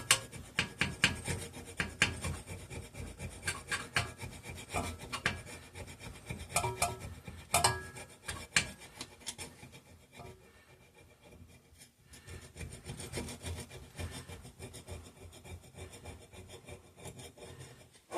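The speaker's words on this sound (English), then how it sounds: "clean up this gasket surface here" Gasket surface on an old Clinton 350 small engine being scraped clean by hand, a close, uneven series of rasping scrapes in quick bursts, busier at first and then slower and lighter.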